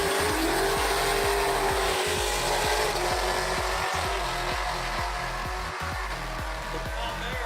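A Corvette 6.2 runs against a Chevrolet ZL1 Camaro. The engines hold a loud, steady roar with a fast repeating low pulse throughout, and the sound stays close and dense the whole time.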